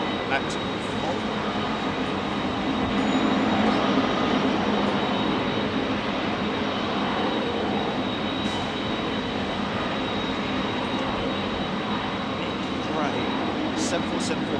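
A British Airways airliner, flight BA382, takes off at full power from runway 27R at London Heathrow, giving a loud, steady broadband jet roar that holds for the whole stretch.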